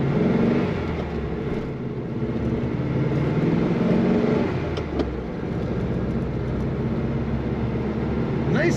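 A 1969 Volkswagen Karmann Ghia with a 4-speed runs smoothly. Its engine gives a steady, even drone at moderate volume, with faint background noise throughout.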